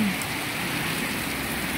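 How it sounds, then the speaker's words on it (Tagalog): Steady rain falling beside a house, a dense continuous hiss of drops on surfaces, close and even throughout with no voices. "Basang-basa sa ulan."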